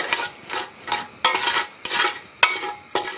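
Chicken pieces stirred with a wooden spoon in a casserole pot over heat, about five bursts of scraping and sizzling in an uneven rhythm, loud and close with brief quiet gaps.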